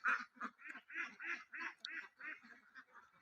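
At a village duck farm in Papiajuri, ducks give a rapid series of about a dozen loud, close, nasal quacks in an even, bouncing rhythm, with no voices between them.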